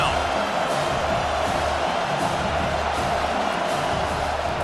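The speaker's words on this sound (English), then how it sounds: "Decibels rising as the crowd gets behind this defense on 3rd down." A stadium crowd roars steadily for the defense on third down in a college football video game, a dense continuous wash of cheering and noise at fairly close, loud level.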